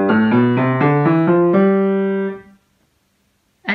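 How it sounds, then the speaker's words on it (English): A Mixolydian scale played as a run of distinct pitched notes in a steady rhythm, the last note held and ringing out before a brief pause and one more short sound at the end. "So this is a Mixolydian scale."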